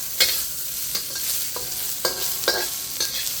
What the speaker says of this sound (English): the actual stir frying is 1, 2, 3.